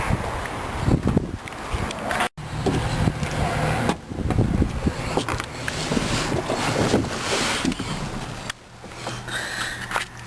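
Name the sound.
2003 Ford Ranger XLT engine starting and idling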